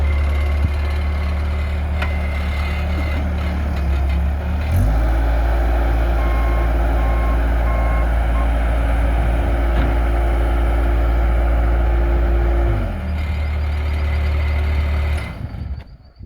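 A reversing beeper on a piece of plant machinery sounds repeatedly over a loud, steady diesel engine rumble that shifts up in pitch partway through before settling, with no talk.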